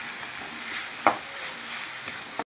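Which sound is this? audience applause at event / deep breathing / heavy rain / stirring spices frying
stirring spices frying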